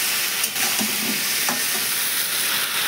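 Ground masala paste sizzling in a pan, a steady frying hiss broken by a couple of scraping stirs and brief bursts near the start, with no talk.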